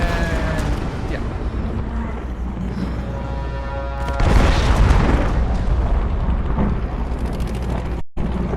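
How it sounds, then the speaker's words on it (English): An explosion in the 2013 Tomb Raider video game: a deep rumbling boom bursts out midway through steady game noise, then lingers before it cuts off abruptly near the end. "Cool guys don't look at explosions!"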